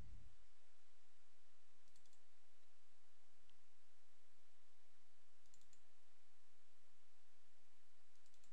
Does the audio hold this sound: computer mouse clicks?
yes